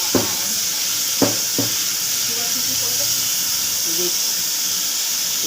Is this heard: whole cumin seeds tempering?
yes